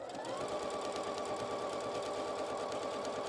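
A sewing machine stitches a fabric seam for a panel, played back sped up, giving a rapid, steady mechanical whir with fast needle clatter at moderate volume.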